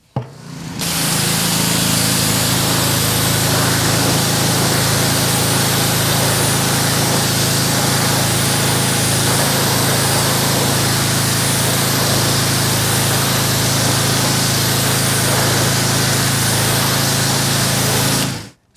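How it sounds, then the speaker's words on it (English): A pressure washer sprays a steady, loud, close hiss of water onto a Porsche Cayenne wheel to rinse off heavy brake dust, running continuously with the motor droning underneath. "So we're gonna get our pressure washer, we're gonna rinse off any residual dust"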